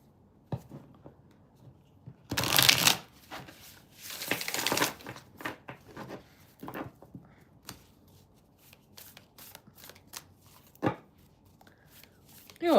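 Riffling tarot card shuffles in two bursts, close by, followed by soft taps and handling of cards in a quiet room.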